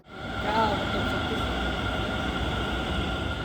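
Delhi metro train riding near Kalkaji, a steady loud rolling rumble with a constant whine inside the carriage, even throughout.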